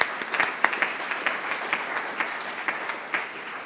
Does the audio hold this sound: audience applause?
yes